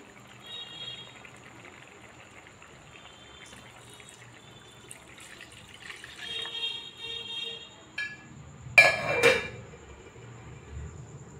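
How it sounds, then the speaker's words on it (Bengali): Water is poured into a pan of rohu fish curry with potato and plantain, a brief splashing rush near the end after quiet kitchen shuffling, close and faint, with no talking. "এবার আমি জল দিয়ে দেবো।"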